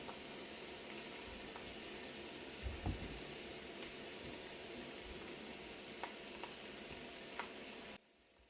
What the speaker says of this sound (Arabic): والان غادي نبقى نضيف الكفته بسم الله فوق من البصله والتوابل